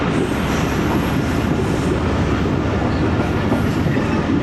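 Rumbling roar of a train as the Awam Express passenger train arrives at Begmanji railway station, a loud, steady rolling noise with faint clatter throughout.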